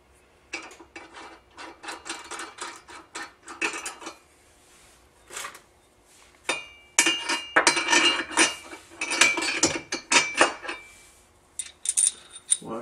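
Metal washers and a bolt clink and rattle in irregular close bursts while a Minn Kota Talon trolling motor is installed. Short quiet gaps separate the jingles, which grow busier and louder toward the end.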